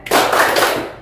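A single sharp hand clap, close and crisp, with a brief ringing tail.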